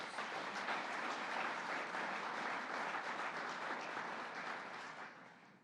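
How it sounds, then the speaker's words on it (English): Steady, dense applause from an audience at a workforce training center announcement, loud and continuous before tapering off at the end, with no talk over it. "I think that deserves a round of applause"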